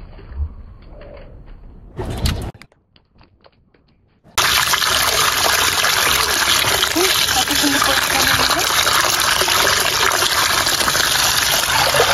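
Water from a tap gushes steadily while loitta fish are washed, starting abruptly after a few seconds of quiet clatter and a brief splash, then running loud and continuous to the end; pigeons coo faintly in the background.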